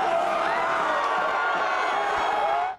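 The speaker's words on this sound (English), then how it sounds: "The Cosm in Inglewood's Hollywood Park erupting with cheers, confetti raining from the ceiling as the Dodgers won the 2024 World Series" Dodgers fans packed into the Cosm venue at Hollywood Park in Inglewood roar and cheer after the 2024 World Series win, a dense, sustained crowd din with shouts and whoops that holds steady until cutting off at the end.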